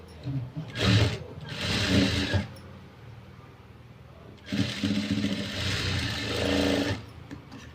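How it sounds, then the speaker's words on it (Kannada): A sewing machine runs a double stitch on a blouse in two separate bursts of close, rapid mechanical whirring, with a short quiet pause between them. "ಡಬಲ್ ಸ್ಟಿಚ್ ಹಾಕ್ಕೊತಾ ಇದ್ದೀನಿ"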